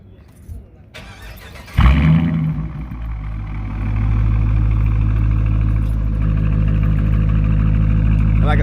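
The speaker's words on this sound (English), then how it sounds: "review the Challenger exhaust system, so you guys can hear what it sounds like" A Dodge Challenger T/A engine cranks and fires with a loud burst, then settles into a deep, steady exhaust rumble that keeps running close by.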